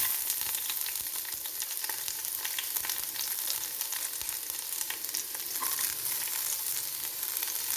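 Shallots and mustard seeds sizzle steadily in hot oil for a Kerala kalan tempering, a dense continuous crackle with scattered sharp pops, close and fairly loud with no talking.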